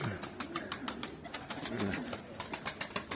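Pigeons inside a coop in Antalya, with soft fluttering and rustling among the birds, faint and close, running steadily as a series of quick repeated bursts with no talking.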